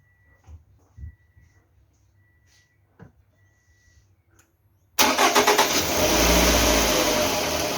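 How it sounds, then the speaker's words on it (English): A Toyota Estima's 2AZ-FE 2.4-litre engine is revved to about 3000 rpm: faint clicks and taps give way to a sudden loud surge of engine roar that holds steady and close. "after I rev up the engine for the 3000 rpm"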